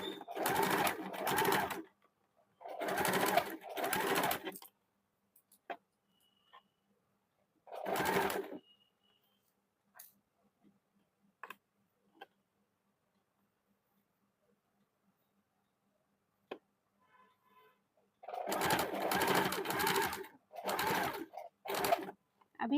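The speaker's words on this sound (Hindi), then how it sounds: "बीच में जो घुसा हुआ है धीरे से एक दाग पे सिलाई चला लेंगे" A sewing machine stitches a gents' short kurta in several separate bursts of close, busy whirring, with long quiet pauses between runs and a few soft ticks and taps.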